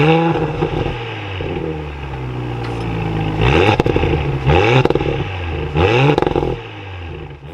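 A 2021 Audi S4 Premium engine started from inside the cabin, with a loud starter crank catching into a revving idle, followed by several rising and falling throttle blips heard up close.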